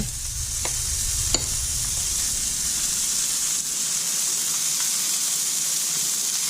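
Onions caramelizing in butter on a flat top grill give a steady, close sizzle and hiss, with a couple of faint clinks of a utensil early on.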